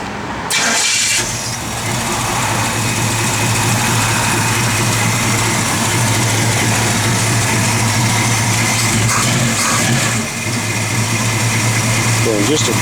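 1967 Chevrolet Camaro small block V8 cranking and firing up, then settling into a loud, steady, rumbling idle close by, with a person talking over it.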